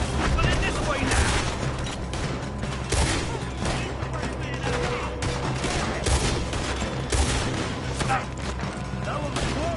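Gunfire in Red Dead Redemption 2 rings out in a sustained fusillade of repeated loud shots and booms across the whole stretch, with voices talking faintly underneath.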